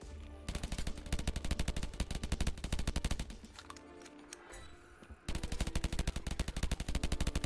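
Rapid automatic gunfire from a weapon in the roguelike video game M.O.O.D.S, loud sustained bursts that pause briefly midway under quieter game sounds, then resume at full intensity.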